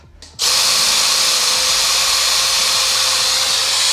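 Power drill boring out the front of a spot in a house repair so it can be filled: after a brief start, a loud, steady high whine runs continuously and close up, with no talking.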